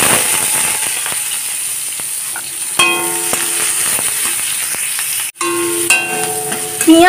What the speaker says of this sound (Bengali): পেঁয়াজ আর লঙ্কাগুলোকে সামান্য নাড়াচাড়া করে নিয়ে